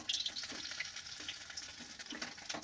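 Magur catfish pieces fry in hot oil for a second time, giving a soft, continuous sizzle with light crackling and a few stirring noises, fairly quiet and with no talk.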